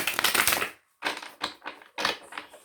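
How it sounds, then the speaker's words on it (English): A deck of tarot cards being shuffled in quick bursts, a long riffling rush followed by several shorter flicks, close and crisp with no talking. "One more shuffle, and then we'll see what these cards have to say."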